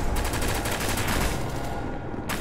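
Bursts of automatic gunfire in SCP: Secret Laboratory, shots rattling in a dense, continuous volley that stays loud and close, then cuts off abruptly near the end.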